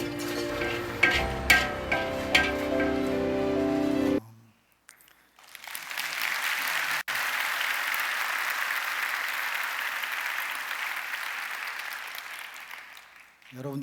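A church congregation breaks into sustained applause, a broad even roar of many hands clapping that swells, holds for several seconds, then fades; a short stretch of piano-like music and brief silence comes before it.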